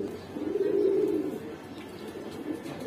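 Giribaz pigeons at a pigeon seller's place give a soft, low cooing that swells for about a second and then trails off into quieter murmurs, heard alone.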